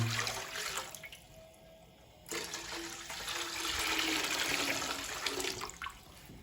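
Four litres of water pour steadily into a cooking pot for chicken corn soup, a continuous close rushing splash that swells and keeps running to the end.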